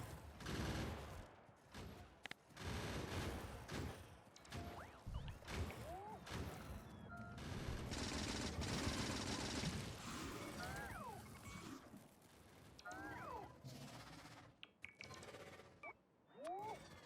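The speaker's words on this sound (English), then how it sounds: "Small worms are just about the right size to take out with your own personal gun." Gunfire from the player's personal gun as it shoots small worms in Factorio, with dense bursts of shots and impacts running through most of the stretch, plus scattered chirping squeals, all fairly loud and with no talking.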